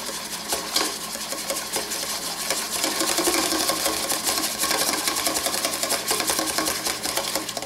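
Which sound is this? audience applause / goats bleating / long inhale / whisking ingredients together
whisking ingredients together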